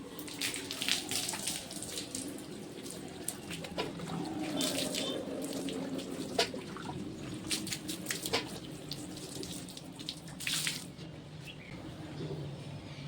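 Water runs steadily from a tap while hair is wetted for washing, with splashing and small clinks, continuous throughout with no talking.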